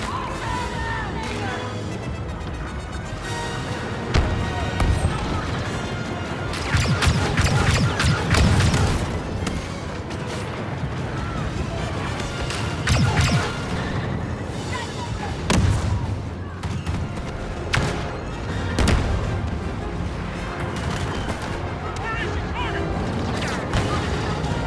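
In a Star Wars Battlefront II battle on Crait, grenade and artillery-style blasts boom repeatedly amid constant gunfire and a dense wash of combat noise, with loud heavy bursts landing throughout.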